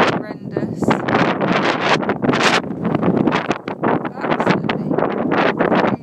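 A horrendous November wind storm in Iceland roars past an outdoor balcony in loud, irregular gusts that batter the microphone, with a voice heard at times beneath the din.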